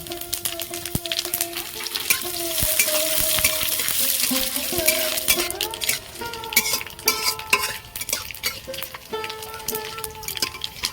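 Whole fennel, cumin, dry red chilli and bay leaf sputter and sizzle in hot oil for a raw mango pickle, with steady frying hiss and scattered sharp crackles and spatula scrapes against the pan.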